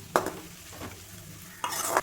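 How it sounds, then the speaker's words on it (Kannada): Curry leaves and chillies fry in hot oil in a home kitchen, giving a close sizzle with two sharp bursts of spattering crackle at the start and end, and a quieter hiss between them. "ಸ್ವಲ್ಪ ಕರಿಬೇವಿನ ಸೊಪ್ಪು ಹಾಕಿ ಚೆನ್ನಾಗಿ ಫ್ರೈ ಮಾಡ್ಕೊಳ್ಳಿ"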